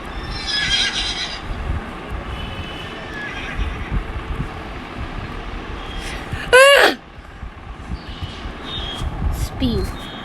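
A loud, sharp horse whinny rings out in a Roblox dungeon obby game, a single rising-and-falling neigh standing out over game noise and background chatter.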